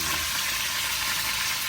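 Food fries in a pan at a campsite by Jones Lake in British Columbia, giving a steady, dense sizzle that fills the short stretch with no voices over it.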